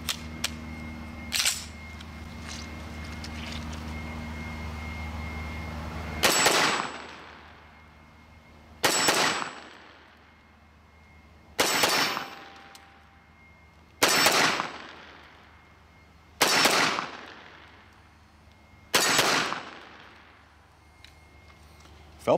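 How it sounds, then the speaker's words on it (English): Walther PPQ .45 ACP pistol fitted with an SSGuideRod fired in controlled pairs outdoors, six loud sharp double-report bursts spaced a few seconds apart after a quiet stretch. "we're going to try a little bit faster shooting. Let's try some controlled pairs."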